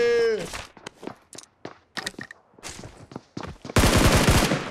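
Rapid bursts of automatic gunfire in PUBG Mobile, loud and close, with a dense volley at the end and scattered single shots and clicks before it.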